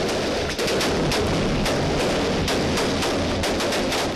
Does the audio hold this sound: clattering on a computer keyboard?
no